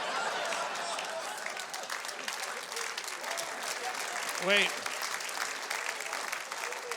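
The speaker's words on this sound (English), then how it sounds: "Don't applaud anymore." A studio audience keeps up steady applause throughout, a dense clapping wash at moderate level, while a voice briefly cuts in partway through.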